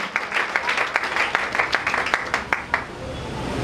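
A congregation at evening prayer clapping together in a quick, even rhythm, loud and close, with voices mixed in.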